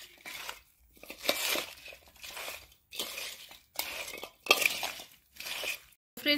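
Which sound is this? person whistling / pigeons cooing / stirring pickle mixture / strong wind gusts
stirring pickle mixture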